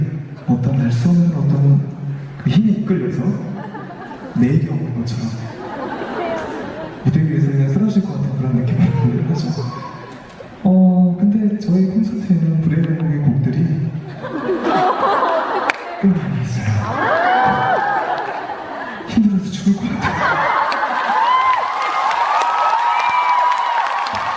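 A concert crowd cheers and shouts in waves, with bursts of laughter and whoops rising and falling; a voice also talks loudly through parts of the noise, and the cheering swells near the end.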